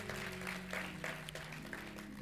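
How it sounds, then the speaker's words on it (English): Applause from a congregation at a church celebration-of-life memorial service, a steady wash of hand claps over sustained organ or instrumental tones, with a voice talking faintly underneath. "Give them a hand clap of praise"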